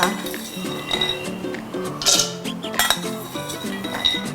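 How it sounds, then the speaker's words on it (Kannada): Lightly fried dry fruits clink and rattle into a blender jar for a juice, with scattered metallic and glassy knocks close by and no talking. "ಜಾರಲ್ಲಿ ಹಾಕೋತಾ ಇದ್ದೀನಿ"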